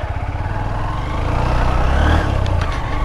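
Honda Xblade motorcycle engine revving close up while the rear wheel spins on a rough village track, a steady loud drone rising in effort midway, with no voices.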